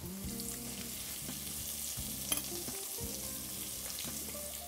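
Leeks and onions sizzle in a hot pan with salt, a dense, close, steady frying hiss broken by occasional stirring clinks and rhythmic scraping, no talking.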